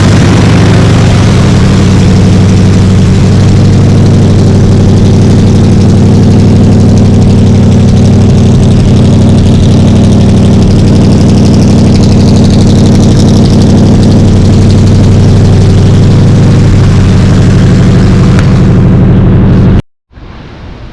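Car engine idling after a timing adjustment, a loud, steady low rumble that runs unbroken for about twenty seconds before cutting off abruptly near the end.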